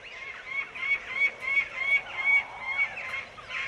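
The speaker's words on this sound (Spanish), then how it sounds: "Me refiero a las grajillas, cada día en aumento." A flock of jackdaws calls from a steppe cliff cut, a chorus of harsh, overlapping squawks that rise and fall in repeated bursts at moderate distance.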